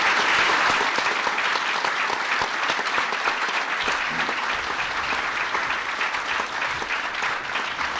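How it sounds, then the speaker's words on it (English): Sustained, loud applause from a mayors' conference audience for President Clinton, a dense unbroken roar of many hands that stays strong throughout and eases slightly toward the end. "let's all give the President a round of applause and thank him"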